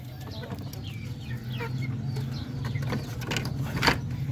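Native darag chickens and roosters on a farm cluck in a steady chorus over a low droning background, with a few louder calls rising near the end and no voices.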